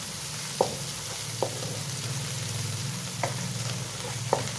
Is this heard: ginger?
yes